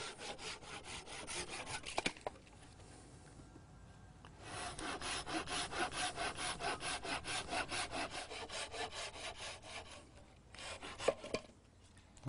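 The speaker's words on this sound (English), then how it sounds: "I'm going to cut this part off here and discard it so that I can keep the diameter similar" A hand saw cuts through a wooden log to trim a rustic table leg, with steady rhythmic back-and-forth strokes, a brief pause partway, then more sawing, close and clear.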